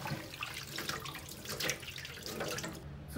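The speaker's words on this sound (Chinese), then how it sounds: "再把鳝鱼洗好。" Running tap water splashes steadily into a sink while eel is rinsed for a Chongqing mao xue wang dish, a soft continuous spatter with faint drips and no talk.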